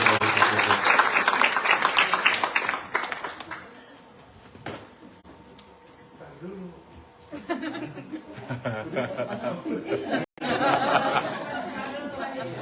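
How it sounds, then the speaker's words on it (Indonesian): Church congregation applauds and chatters at a 21st anniversary celebration, a loud burst of clapping mixed with chuckles that fades, then swells again toward the end. "Berikan tepuk tangan dan pujian buat Tuhan"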